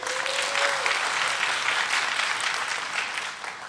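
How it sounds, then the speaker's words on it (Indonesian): Audience applause for an Indonesian stand-up comedian, steady and moderately loud throughout with no talk over it, holding a dense even patter of many hands. "Sebelumnya tepuk tangan dulu buat Kongguan"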